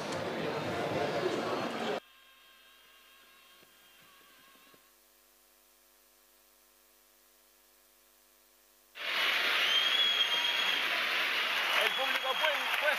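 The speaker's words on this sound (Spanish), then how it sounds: "El público puesto en pie aplaude esta presentación" Carnival competition final audience in San Roque on its feet applauding, a dense, loud roar of clapping that bursts in, drops out for several seconds, then returns at full strength.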